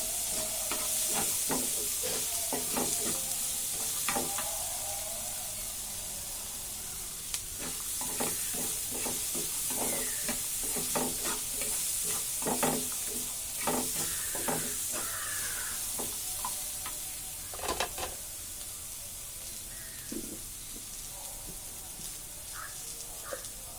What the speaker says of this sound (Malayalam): എല്ലാം കൂടെ ഒന്ന് മൂപ്പിക്കും. ഒത്തിരി മൂക്കണ്ട, ഒരു ചെറിയ ഒന്ന് വാടിയാൽ മതി.